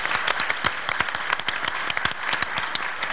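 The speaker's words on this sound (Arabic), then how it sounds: "نسوي احلى تصفيق لابطالنا الحلوين" Studio audience applause on a television show, lively and continuous, with sharp individual claps standing out clearly within the dense clapping across the whole stretch.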